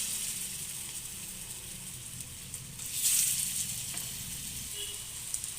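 Food frying in hot mustard or white oil, a steady soft sizzle and crackle throughout, swelling briefly as a piece is dropped into the pan, quiet and without talk.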